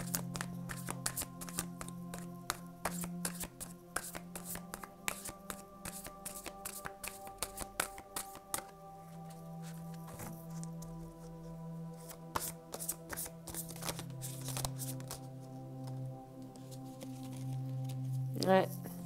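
Tarot cards shuffle in steady, rapid riffling patter close by, with occasional sharper taps as cards are drawn and laid down, while a low hum runs underneath and a voice speaks at times.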